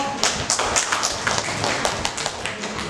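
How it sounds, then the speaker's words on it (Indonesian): A group of participants at a child-development training session claps hands in a short, loose burst of distinct claps, fairly close and clear, with no talking over it. "tepuk tangan buat kelompok."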